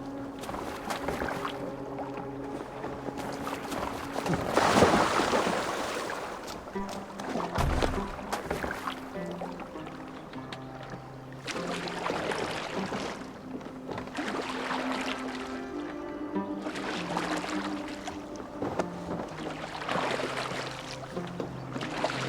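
Oars dip and stroke through water as a boat is rowed in Assassin's Creed Valhalla, steady splashing and gurgling over a continuous game soundscape with low musical drones, a louder surge midway.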